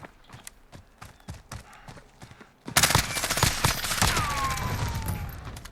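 Full-auto AAC Honey Badger fire in Call of Duty Modern Warfare, 300 Blackout rounds against bots: after a few quiet thumps, a loud dense burst of rapid shots runs steadily to the end.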